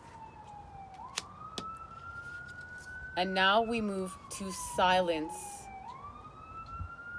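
Emergency sirens wail and rise in long sweeping tones, moderately distant, under a calm spoken voice that continues through the passage.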